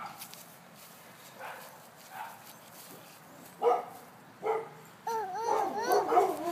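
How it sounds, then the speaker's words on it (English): The neighbour's dogs bark at a distance, faint scattered woofs that grow busier and more overlapping toward the end over quiet outdoor background. "Yeah, that's the neighbor's dogs."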